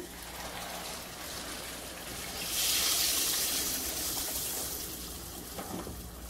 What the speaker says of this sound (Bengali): গরম পানি দিয়ে দেব পরিমাণ মতন।